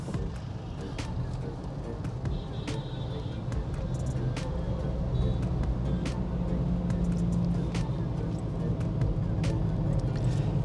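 A 2022 Maruti Suzuki Alto K10 with automatic transmission pulls off into thick Indian city traffic, giving a steady low engine and road drone with scattered horn beeps and traffic noise around it.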